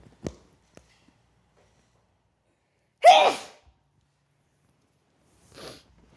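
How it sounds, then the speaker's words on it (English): A single sharp sneeze bursts out loudly and close up, with a faint inhale-like sound just before and a softer breathy noise a couple of seconds later. "Ooh, I have to sneeze."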